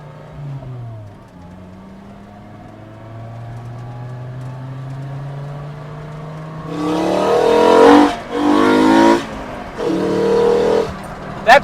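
A five-cylinder engine swapped into a Mk2 Volkswagen GTI pulls hard, its rising drone breaking at a 2-3 upshift, then loud bursts of acceleration with brief gaps between gear changes, heard from inside the car.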